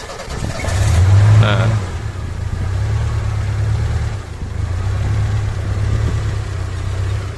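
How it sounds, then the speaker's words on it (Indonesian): A Suzuki Zebra/Espass car engine fitted with a JCK TCI ignition unit starts and then settles into a steady, loud low idle. Someone speaks briefly over the start. "Jadi cukup di starter sekali dia langsung nyala."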